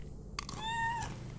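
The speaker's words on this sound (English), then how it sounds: "Don't think it's just the meowing." A cat in the video game Sensorium gives a single short, clear meow, fairly quiet, over a faint background hum.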